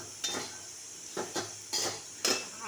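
Sesame seeds dry-roasting in a pan with already roasted onion and coconut, stirred with a spoon: four distinct scraping strokes, close and fairly quiet, over a faint steady hiss.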